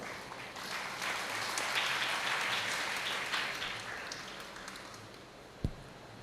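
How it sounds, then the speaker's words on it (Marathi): Audience at a Guru Purnima festival discourse clapping in the guru's name, a sustained wash of applause that swells and slowly fades, with one sharp loud clap near the end. "जसं तुम्ही आत्ता गुरूंच्या नावाने टाळ्या वाजवल्या"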